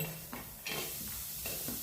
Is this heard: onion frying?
yes